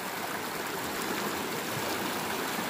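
Shallow stream water, roughly eight to ten inches deep, flowing over rocks at a bikepacking crossing; a steady, close, broadband rush and trickle with no talking.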